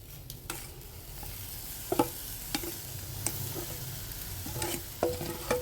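Mukunuwenna mallum, chopped greens with grated coconut, going into a pan, with soft intermittent clinks and scrapes of a spoon over a low steady hiss, no talking.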